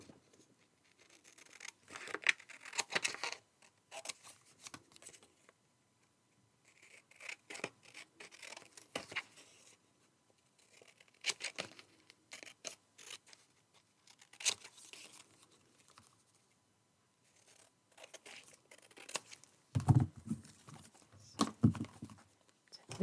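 Scissors snip through scrap paper for a waterfall flip card, bursts of crisp cutting and rustling paper separated by quiet pauses, close and soft, with a louder handling thump near the end.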